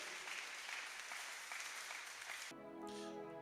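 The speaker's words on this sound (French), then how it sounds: "Aidez-moi à acclamer pour mon pianiste." Church congregation applauding for the pianist during a worship service, steady dense clapping that stops abruptly, followed by a sustained chord of music.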